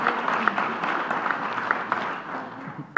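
Fairly faint applause from an audience at a speaking event, a soft wash of scattered claps with a few sharper hits standing out, continuing steadily throughout.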